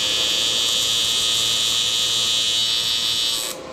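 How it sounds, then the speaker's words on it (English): A TIG welding arc on aluminum, a fuel tank for a minibike, buzzes as a loud, continuous, harsh hiss and hum with no break until it cuts off abruptly near the end, with no talking. "TIG welding aluminum is one of the terrors of this world. It sounds gnarly"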